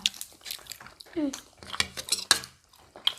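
A spoon scooping sauce from a dish of creamy seafood shrimp butter, with several sharp metallic clinks and scrapes against the bowl, some quick and close together, with soft wet stirring between them.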